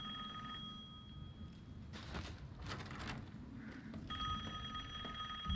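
A telephone rings in the game Resident Evil Village, a faint steady electronic tone that sounds, pauses amid rustling noise, then resumes, with no talking over it.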